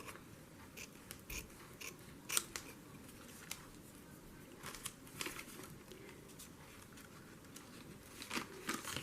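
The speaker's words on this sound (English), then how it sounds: "So I'm just going to cut right there." Scissors cutting paper for a paper-bag journal page, a faint run of soft snips and light crinkling with irregular spacing, close and quiet with no voices.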